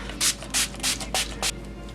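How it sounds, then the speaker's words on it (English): Five short hissing bursts from a pump spray bottle of face mist, evenly spaced and close, over a low steady background hum. "So I'm just going to go ahead and spray my face with this."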